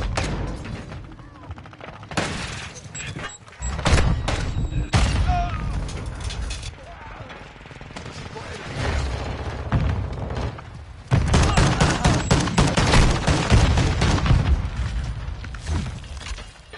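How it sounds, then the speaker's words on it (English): Gunfire in a military shooter video game, repeated bursts and booming shots over a dense, continuous battle din, some close and loud, with radio-style voices talking at times. "Taking fire over here."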